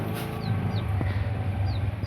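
Chickens cluck in short repeated bursts over a steady low farmyard rumble, close and fairly loud, with no one talking.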